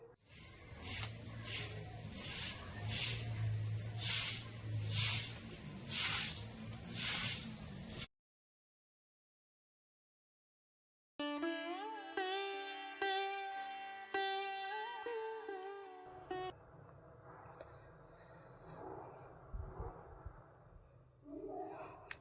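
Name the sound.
sweeping the floor with a broom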